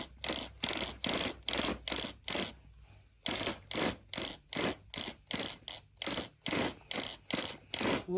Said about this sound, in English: That servo's really quick.